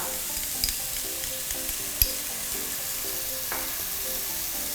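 Mushrooms stir-fried in a pan with oyster sauce, sugar and light soy sauce, a steady soft sizzle with occasional spatula taps and scrapes, heard close and alone without any voices.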